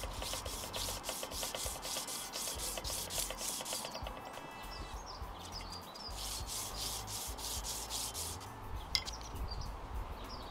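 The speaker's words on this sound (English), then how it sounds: "So if I sand it more, it should generate enough dust to fill the hole." Sandpaper rubs back and forth over dried wood glue on wooden clock hands, making close, steady scratchy strokes in a brisk repeating rhythm with brief pauses, no talking.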